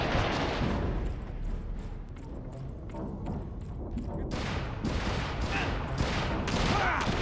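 A Red Dead Redemption shootout fills the scene with loud, overlapping gunfire, constant booming shots and rolling reports that grow sharper and more frequent toward the end, with no pause.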